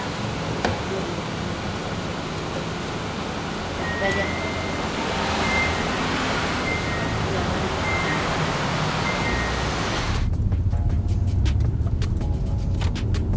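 Continuous rumble of cars idling and creeping in a heavy traffic jam, with engine hum and road noise throughout, faint horn-like tones midway and a louder, closer vehicle wash near the end.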